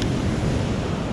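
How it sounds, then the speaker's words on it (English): Sea waves and surf on a beach along the Holderness coast near Atwick and Hornsea, a constant close roar of washing water with wind, loud and unbroken, no voices. "the waves, the surf has actually calmed down now a lot, as you can see."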